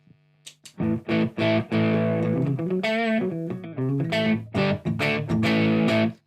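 An electric guitar, an Artist TL69 Thinline Telecaster through a lightly distorted amp and an overdrive pedal: several short choppy chords, then sustained bending notes and a final burst of strummed chords.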